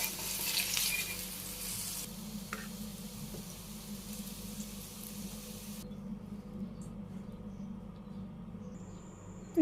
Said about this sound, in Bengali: এখন আমি চিনি দিয়ে দিলাম, নাড়াচাড়া করে আবার একটু ভাজি করে নিই।